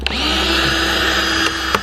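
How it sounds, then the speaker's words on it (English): A power drill whirs steadily while cutting away at a front lip mounted on a Nissan 370Z, a close, continuous high-pitched drone with brief clicks at the start and end. "We're getting it off just by drilling it."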